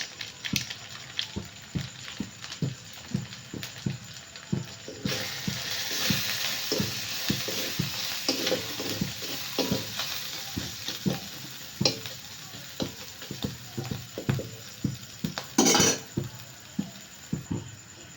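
Cumin, salt and Kashmiri chili powder frying in a pan for a prawn malai curry, with regular scraping stirs over a soft sizzle that grows louder midway, close and steady, no talking.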